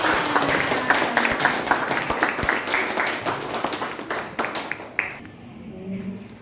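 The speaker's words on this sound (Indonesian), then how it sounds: "Oke, tepuk tangan semuanya." A classroom of students applauding together, a dense run of quick claps that keeps going for about five seconds and then stops abruptly, leaving quiet room sound.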